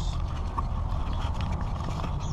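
Drag, spool and washers coming off a fishing reel during maintenance, giving a steady run of small mechanical clicks and ratcheting rattles, close and fairly quiet with no voices.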